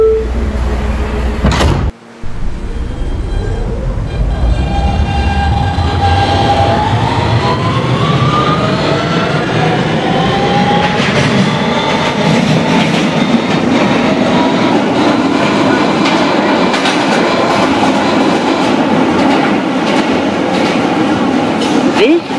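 A Siemens R160B subway train on the BMT Broadway Line in a Roblox game, a loud continuous rumble with a rising electric motor whine as it accelerates, steady throughout after a brief break near the start, with speech mixed in.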